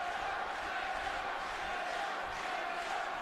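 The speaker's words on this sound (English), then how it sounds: "Listen to this crowd." A crowd at a live wrestling event during a tied women's iron woman match roars in a steady, dense wash of cheering and chanting, loud and continuous, with no individual voices standing out.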